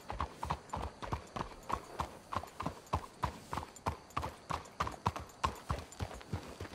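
Horses' hooves clip-clop at a steady walking rhythm on a Red Dead Redemption 2 video game trail, crisp and fairly close, with faint background ambience.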